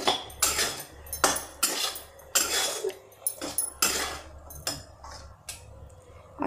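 A spoon mixes food with half a lemon's juice in a dish for a Navratri fasting thali, giving repeated close clinks and scrapes of metal on the dish in uneven bursts.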